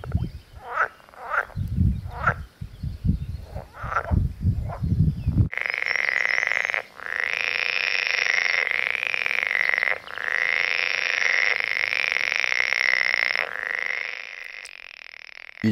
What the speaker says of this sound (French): En mai, ce sont les petites grenouilles vertes qui prennent la place. Elles sont très bruyantes